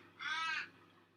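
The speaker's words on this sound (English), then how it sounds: "would you listen to that crow outside?" A single crow caws once outside, a short harsh call heard faintly at a distance against a quiet background.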